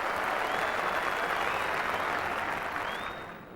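A cricket crowd at an England versus India Test match applauds steadily, a dense wash of clapping that holds loud throughout and then tapers slightly toward the end.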